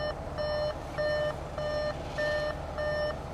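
Audi SQ5 parking sensors beeping in reverse: a clear, loud electronic tone repeating in regular pulses about every half second, six beeps heard, close inside the cabin.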